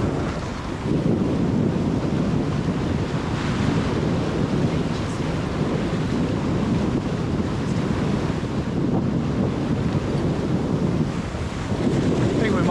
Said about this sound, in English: wind is up to 23, 24 knots and the boat is shifting